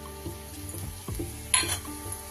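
Two dried red chillies, a bay leaf and cumin seeds tempering in hot oil give a quiet sizzle, broken by a few soft clinks of a utensil against the pan and a short burst of crackling.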